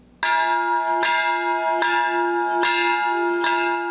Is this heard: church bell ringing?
yes